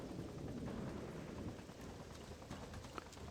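A helicopter in the video game Freedom Fighters, a steady low rotor rumble with a dense broadband wash that stays loud and even throughout, with a few faint clicks and thumps on top.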